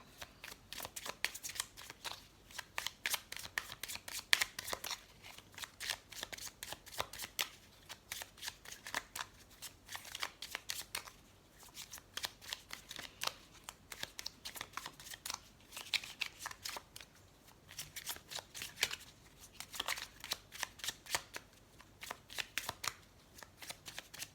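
Tarot cards being shuffled by hand in a continuous riffling patter of rapid, close, crisp flutters that repeat in bursts for over twenty seconds, with no voice over them.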